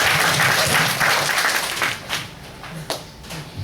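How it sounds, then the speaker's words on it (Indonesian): An audience applauds a speech at a temple ceremony held in a mall in Amlapura, a dense burst of clapping that starts loud and thins out into scattered claps within a few seconds. "Aplaus dong."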